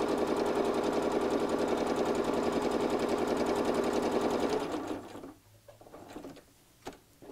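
A sewing machine stitches a purse in a fast, steady mechanical patter for about five seconds, then stops, leaving a few brief handling sounds.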